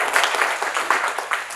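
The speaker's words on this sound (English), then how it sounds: "Okay, give her a big clap." A talk-show audience gives a short burst of applause, a dense patter of many hands clapping at once that lasts little more than a second.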